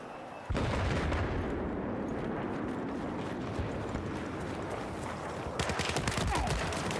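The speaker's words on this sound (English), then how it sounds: "That's our mortar." Sustained heavy gunfire and explosive blasts from a Battlefield-style shooter, with mortar rounds landing amid a continuous loud roar of battle and a burst of sharper crackling shots near the end.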